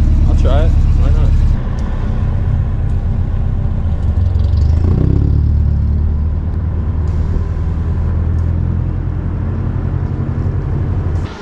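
A finished Toyota body-dropped truck on its first test drive, its engine a loud, close, steady rumble that lifts briefly as it pulls away and then holds an even drone while people talk over it.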